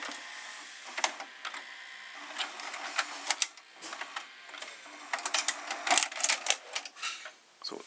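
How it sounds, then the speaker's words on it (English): Two JVC HR-VP606U VCRs ejecting tapes nearly in unison, producing a close run of dry mechanical clicks, clacks and whirring motor and gear noise that grows busier and louder toward the end. "right now we're going to press eject on the two VCRs at the same time"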